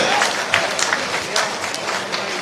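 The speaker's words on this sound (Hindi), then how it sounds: "जोरदार तालियां दिल खोलकर" Crowd clapping at a BJP office celebration in Bhopal, marking a sweep of all 29 Madhya Pradesh seats: dense, steady applause throughout with a few louder bursts, and some voices mixed in beneath.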